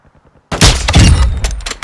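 Loud, close bursts of gunfire in the Warzone 2.0 video game, with several sharp overlapping shots that erupt suddenly after a brief quiet moment.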